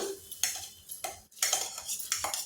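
Moong dal going into a pot of boiling water for khichdi, heard as a few sharp metallic clinks and scrapes of a spoon against the pot in quick bursts, close and fairly quiet.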